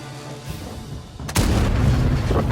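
In the tank video game World of Tanks, a single heavy cannon boom lands midway, its deep blast rolling into a sustained rumble, with quieter low engine-like noise before it.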